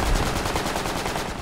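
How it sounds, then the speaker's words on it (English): Rapid machine gun burst in the video game Project Reality, a steady close rattle of evenly spaced shots running throughout, loud and unbroken. "I'm gonna lit him up with my machine gun"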